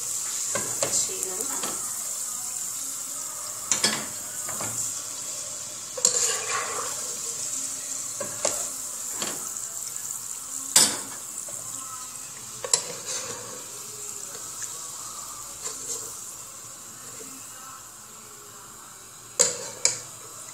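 Cashews fry in a pan with a faint, steady high sizzle, broken every few seconds by sharp scraping stirs and clinks of a utensil, quiet and close without talk.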